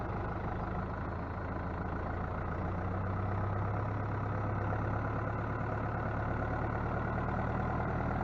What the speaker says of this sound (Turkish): Yollarda çokça yer kaplayan kamyonumuz.